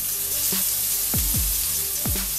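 Chopped broccoli sizzling in a generous amount of hot extra virgin olive oil in a pan, a dense steady fry with bursts of crackling and a few clanks as it is stirred.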